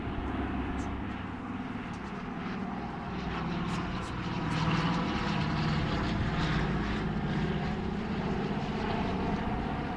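A Dakota aircraft flies past at the Aero India air show in Bengaluru, its propeller engines droning loud and steady, swelling slightly as it passes.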